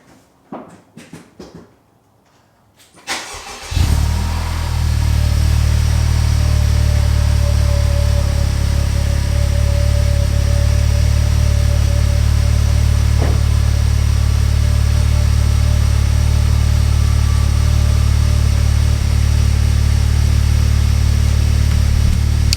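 A Honda Civic Type R FK8 fitted with a titanium turbo inlet cold-starts after a few seconds of quiet, the engine catching with a brief loud flare before settling into a steady, deep, close idle that holds for the rest of the clip.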